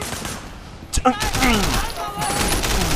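Gunfire in the open-world action game Sleeping Dogs, a few sharp shots in quick succession followed by whooshing effects and a rumbling background, with a voice talking over it.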